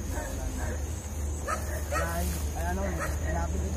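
Short, light dog yips and barks repeat over a few seconds, coming from nearby while people talk in the background.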